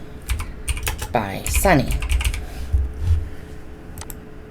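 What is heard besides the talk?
typing on a computer keyboard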